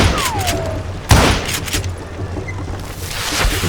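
Gunfire and thrown dynamite blasts in the Western shooter Call of Juarez: Gunslinger, with a single heavy boom about a second in over a dense, continuous bed of rattling shots and game noise.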